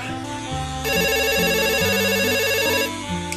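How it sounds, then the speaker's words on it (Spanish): A telephone ringtone plays loudly and alone, a bright electronic melody of rapid repeating tones that lasts a few seconds. "que ha sonado el teléfono"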